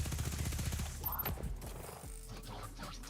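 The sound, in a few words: gunfire from emptying a magazine in video game Destiny 2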